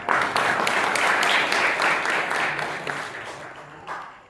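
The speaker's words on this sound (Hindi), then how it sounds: "तो इनके लिए जोरदार तालियां।" A full burst of audience applause, dense and strong at first, then gradually thinning and fading out over a few seconds, with faint voices mixed in.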